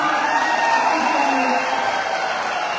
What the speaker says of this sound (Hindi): तो एक बार जोर तालियां सारे लीडर्स के लिए